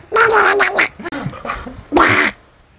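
A person's voice imitates a duck, giving loud nasal quacks in two bursts: a long run of rapid quacking, then a shorter one after a pause, close to the microphone.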